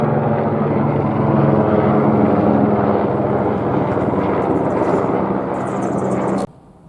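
An LAPD helicopter passes overhead with a loud, continuous rotor and engine drone that stays strong throughout, then cuts off abruptly at the end.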